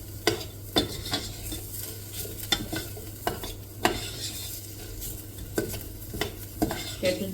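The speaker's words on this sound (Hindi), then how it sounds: "प्याज ट्रांसपेरेंट होने तक फ्राई करूंगी।" Onions and garlic fry in an electric kettle, a low steady sizzle and hum broken by regular scraping, tapping stirs of a spoon against the metal every second or so, close by.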